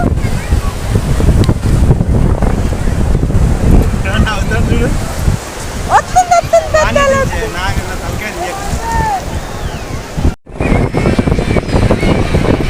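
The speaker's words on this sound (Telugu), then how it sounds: "ఇగో సముద్రం చూడండి, అలలు వస్తున్నాయి." Ocean waves roll onto Juhu Beach in Mumbai as a loud, continuous wash with heavy wind buffeting, while people talk and call out close by over the surf.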